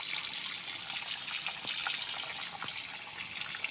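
Natural spring water on a riverside farm lot flows steadily with a soft, constant rush, a few faint drips or splashes standing out now and then.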